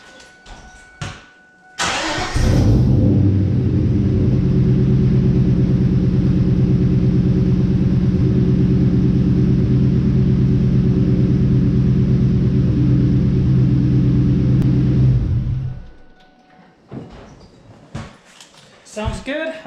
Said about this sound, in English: the last step is just to make sure that your car starts